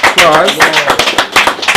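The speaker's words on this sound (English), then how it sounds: "I think we need to put our hands together and give her a lofty round of applause" Close, sharp handclaps from an audience applauding the evening's host at a formal gathering, short and uneven, overlapping with a speaking voice.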